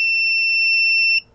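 Arduino alarm buzzer set off by an HW 487 photo interrupter module sounds a loud, steady, high electronic tone that holds unbroken for about a second before cutting off abruptly.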